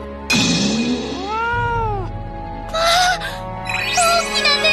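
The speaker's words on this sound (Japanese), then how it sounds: "あ、大きな猫ちゃん、" A large cat in an anime fight scene gives several drawn-out meows, with bending pitch and a breathy gasp between calls, loud and close, set over a low background rumble.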